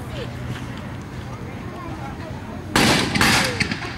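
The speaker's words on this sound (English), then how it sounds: "there will be some guns and loud bangs from explosions," Steady outdoor crowd murmur at a Eureka Stockade reenactment, then a sudden loud gunfire or explosion bang near the end followed by a second burst, with voices around.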